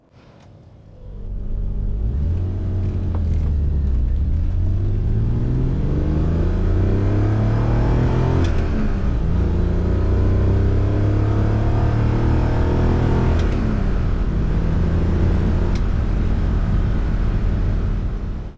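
A Triumph TR5 sports car pulls away and climbs through its gears, the rough engine rising in pitch with each shift, loud, close and steady throughout.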